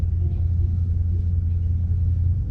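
A Ford Mustang GT S197 drives along with its engine giving a deep, steady low rumble from inside the car, loud and unbroken with no talking.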